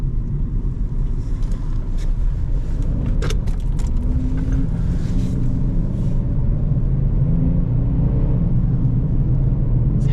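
A 2005 Saturn L300 engine idles with a low, uneven rumble close by, dipping and stumbling as it hesitates, with a few sharp clicks and rattles partway through.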